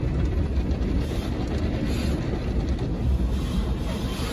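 A high-pressure water jet blasts a car at a car wash, making a loud, steady, close hissing roar with no pauses and no voices.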